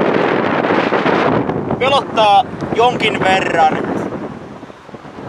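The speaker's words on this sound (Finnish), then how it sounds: "tuuli vaan voimistuu" Strong wind buffets a radio mast high up, roaring and rumbling steadily against the microphone while someone speaks over it.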